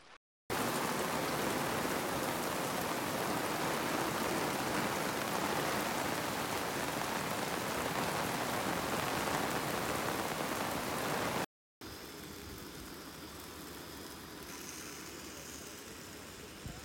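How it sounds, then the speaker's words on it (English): Steady rain falls outdoors at a Starfest astronomy gathering, a dense, constant hiss of drops on surfaces lasting about eleven seconds, then briefly cutting out before returning slightly softer and duller. "standing outside at Starfest, still raining"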